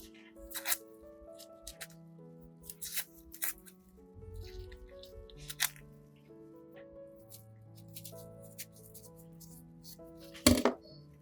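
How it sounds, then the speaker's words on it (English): A knife chops peeled onions into small pieces on a board, giving scattered soft taps and squishy cuts amid quiet clinks, with one sharper knock near the end. "peel the onions, then cut them into small pieces as desired"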